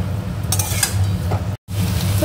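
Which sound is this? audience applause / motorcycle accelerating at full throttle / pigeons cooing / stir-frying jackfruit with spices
stir-frying jackfruit with spices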